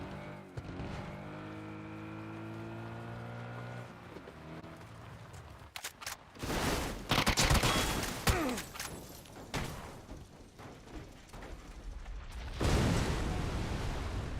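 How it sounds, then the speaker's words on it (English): Shotgun blasts and gunfire from PUBG, the battle royale game, with loud broadband bursts and crashing impacts following a steady engine-like hum, several heavy blasts clustered in the second half. "I legitimately think it might be my coolest shotgun kill ever"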